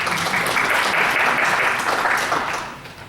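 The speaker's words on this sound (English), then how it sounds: "please, if we could hold the applause down" Sustained, fairly loud clapping from the audience at a city council meeting in Kenmore, a dense crowd applause that holds steady and then tapers off toward the end.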